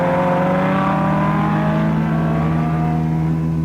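In a radio drama sound effect, a racing car roars past another car on the track, its engine note loud and close, sweeping steadily through a pass-by.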